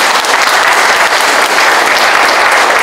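A party convention audience gives loud, sustained applause, a thick uniform roar of many hands clapping close and full for the whole stretch.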